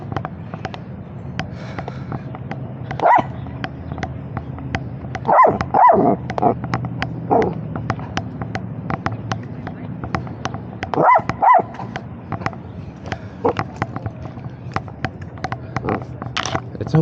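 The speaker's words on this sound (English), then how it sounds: "there's a lot of dogs out here today." Dogs bark at a beach, several sharp barks and yips scattered over a steady windy background, some near and loud, others fainter, with occasional talking.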